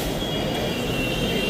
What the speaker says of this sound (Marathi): फायनली मेट्रो पण आलेली.